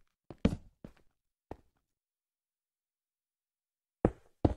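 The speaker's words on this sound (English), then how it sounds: "now I can place the door." Door block placed in the Minecraft video game: a few short, dry wooden knocks and taps, then a pause of silence, followed by two more sharp knocking thuds close up.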